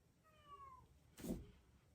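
A single drawn-out cat meow at close range in a quiet room, followed by a brief soft thump.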